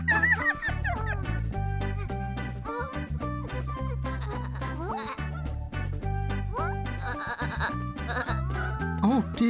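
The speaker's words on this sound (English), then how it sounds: "All the sheep are getting out." Cartoon sheep bleat over and over in wavering, bright cries layered over bouncy background music, several voices overlapping closely in a busy, cheerful run.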